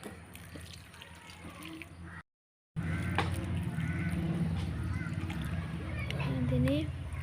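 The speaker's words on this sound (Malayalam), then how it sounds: "ചെടിക്ക് വെള്ളം ഒഴിച്ചു കൊടുക്കാം" Water poured onto young vegetable plants in a garden, a steady splashing trickle that carries on under a person talking and breaks off briefly partway through.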